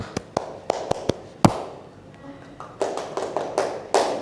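Sharp single hand claps ring out in a classroom clapping game, a dozen or so crisp, close claps, some evenly spaced and others in quick clusters, with a faint voice murmuring in a quiet gap.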